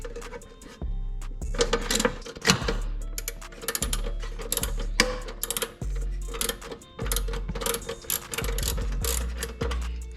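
A ratchet loosens an air intake fitting on a 2020 Honda Accord, giving close, repeated bursts of clicking pawl strokes in an uneven rhythm with brief pauses between them.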